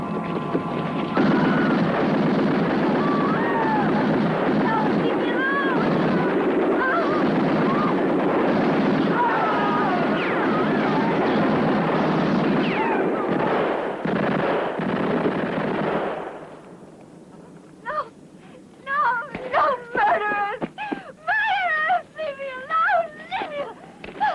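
Sustained, loud gunfire from a 1969 war-film battle roars continuously for about sixteen seconds, then cuts out, leaving quieter scattered sounds and shouting voices.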